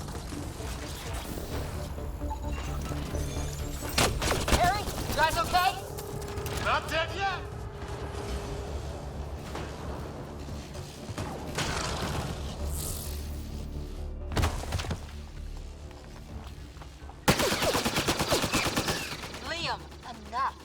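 Gunfire during combat in the Mass Effect Andromeda video game, with repeated bursts of automatic fire, sharp single shots and mechanical clatter over about twenty seconds while characters shout to each other.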